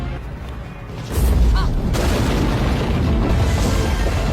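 A deep, heavy boom erupts as the moon explodes in a film, a sudden loud blast followed by a sustained rumbling roar of debris.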